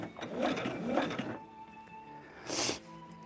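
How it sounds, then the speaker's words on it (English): A sewing machine stitching a fabric table runner, a close steady mechanical whir in two short bursts separated by a quiet pause, with no talking. "And I'm sewing in between the solid line and the dotted line."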